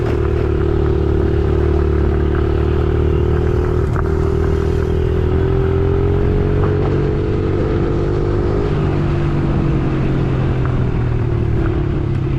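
A Honda CRF 110 mini dirt bike riding up a trail, its engine a loud, close, steady drone that holds a constant pitch before dropping slightly partway through, as if shifting gear, with no voices over it.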